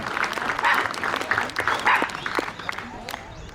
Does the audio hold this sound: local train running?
no